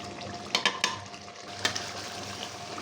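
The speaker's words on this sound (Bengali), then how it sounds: "আমাদের গোস্ত কষানো প্রায় শেষ পর্যায়ে, মোটামুটি হওয়ার দিকে" Meat braising and sizzling in a covered pan, a constant sizzle with a few sharp metallic clinks of a lid or spoon scattered over it.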